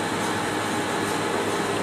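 A mechanical vacuum pump runs on a high vacuum coater, producing a loud, steady broadband roar and hum that stays constant from start to finish, without speech.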